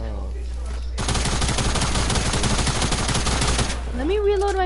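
Flintlock gunfire in a video game: a dense burst of crackling shots fills the middle of the clip, loud and continuous, fading as a rising tone and faint voices follow.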